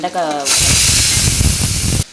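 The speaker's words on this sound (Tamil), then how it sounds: "வெண்டைக்காய் வதங்கிட்டு இருக்குது" A loud, sudden sizzle erupts as okra hits hot oil in a pan, hissing steadily for a couple of seconds before cutting off; a voice is heard briefly before it.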